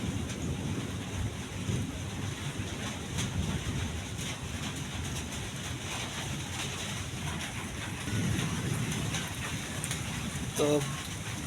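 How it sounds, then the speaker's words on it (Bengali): Steady, dense rain falls during a wet morning, drumming evenly onto surfaces close by for the whole stretch with no break in intensity and a slight swell near the end. "এই বৃষ্টি যে কবে যে ছাড়ে"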